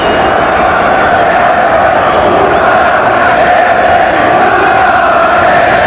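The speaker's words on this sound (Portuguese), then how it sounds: "Torcida vai, critica, xinga, se revolta" A football stadium crowd at a Bundesliga match roars and jeers in a steady, dense wall of sound, protesting a referee's decision.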